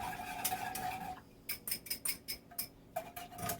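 Eggs whisked in a bowl for a custard for peanut butter pie: a quiet run of quick metallic clinks and taps, about eight brisk strokes in an uneven rhythm, close and alone.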